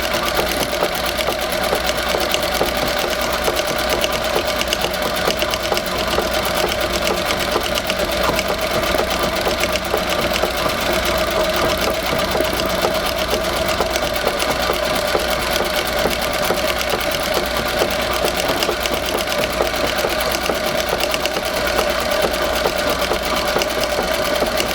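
A Singer 201-3 treadle sewing machine runs steadily, its needle chattering in a fast, even rhythm close by for the whole stretch without pause.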